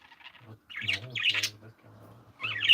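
Bird calling with harsh squawks and chirps in several close, loud bursts and short pauses between them, and no one speaking.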